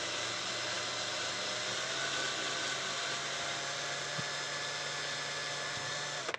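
A power drill whines steadily as it bores a shallow hole about a quarter inch into PVC, a continuous high-pitched tone close by that cuts off abruptly at the end.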